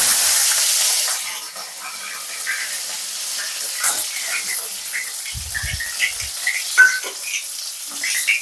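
Green chilies and cumin seeds hit hot ghee in a pan, starting with a loud burst of hissing sizzle that settles into a steady, softer crackle and spatter.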